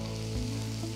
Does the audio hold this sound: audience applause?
no